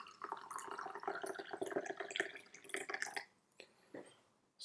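Hot water is poured from a kettle over gyokuro green tea leaves in a small brewing vessel, a close, trickling splash lasting about three seconds before it stops, followed by a few faint drips and clinks.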